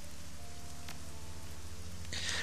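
Steady rainfall ambience in the video game Shadowrun Hong Kong, a soft even hiss with a low tonal hum beneath and a brief brighter splash near the end.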